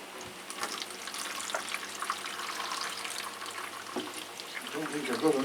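Water poured through potted Phragmipedium orchids, including richterii, runs and trickles steadily at low volume, with faint splashes and dribbles near the end, while a person talks quietly.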